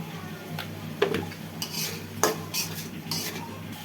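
Beef tripe with turmeric, salt and spices is stirred and fried in a pan, a spoon scraping and clinking against the metal in irregular strokes over a soft sizzle.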